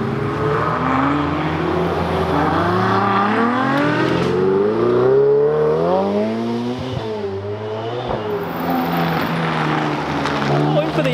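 Ferraris at an owners' rally in Italy driving past near a volcano, engines revving and rising and falling in pitch as they accelerate by, steady and fairly loud throughout the clip.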